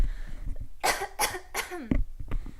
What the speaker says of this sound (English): excuse me for a moment, I'm going to cough here